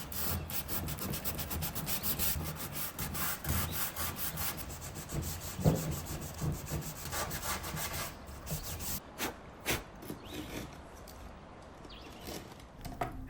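A wooden dresser sanded by hand with a sanding block shaped to fit its profile, steady back-and-forth rubbing strokes close up and fairly quiet, thinning into separate scrapes toward the end.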